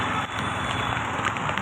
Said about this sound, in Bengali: বাপরে বৃষ্টি, সাংঘাতিক বৃষ্টি হচ্ছে